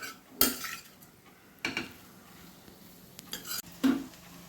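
Kothu parotta is mixed in a pan over a slow flame, the spatula giving four sharp clanks against the metal with quiet scraping and faint sizzling between them, close and with no talking.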